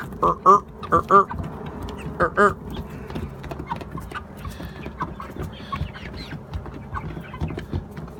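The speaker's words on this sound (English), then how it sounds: "They are starting to cackle a little bit like hens." Several bursts of clucking cackles from young chickens come early on, close and fairly loud, then fade into a quieter murmur of birds and a low background voice, by a chicken coop.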